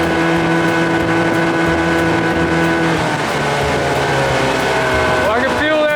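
Evinrude 30 hp outboard motor running and warming up on a boat, a loud steady engine drone throughout with slight pitch shifts near the end, heard up close with wind.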